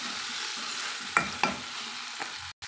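Tomato sautéing in a pan for Tamil-style idli kurma, a steady low sizzle with a few brief spoon scrapes and stirring knocks, close by and without talk.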